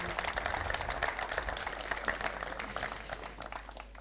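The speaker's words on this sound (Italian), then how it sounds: "un applauso a Tommaso Bonanno." An audience at the Sergio Granata award ceremony applauds a football player: soft, dense clapping from a crowd, heard faint and distant as a continuous patter.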